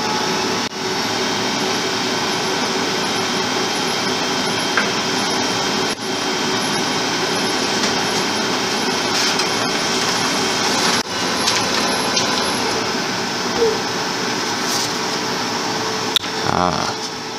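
A Lexmark T520 laser printer starting up, its steady whirring and humming of fans and motors running continuously at close range, with brief mechanical clicks near the end while a voice talks over it.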